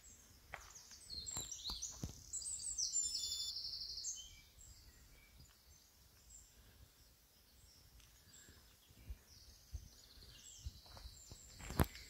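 Small bird singing in a wood along a running trail, a faint high chirping phrase in the first few seconds, with soft footsteps and rustling beneath and a few light thumps later.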